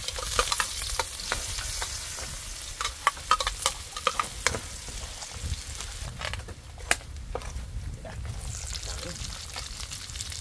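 Carrots sizzle and fry in a pan as a utensil stirs and scrapes them, with bright crackling and irregular clicks and voices speaking in the background.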